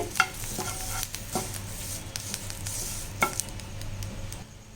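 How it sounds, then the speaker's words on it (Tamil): Curry leaves dry-roasting in a pan for rasam powder: soft, continuous crackle under repeated scraping strokes of a spoon stirring the pan, with a few sharper clicks. "இப்போ இந்த கருவேப்பிலை நல்லா வறுபட்டுச்சு"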